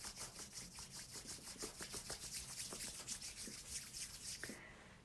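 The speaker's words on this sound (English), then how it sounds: "rub your palms together" Palms rub briskly together in a quiet room, a soft, rhythmic swishing friction repeated steadily for several seconds before it stops.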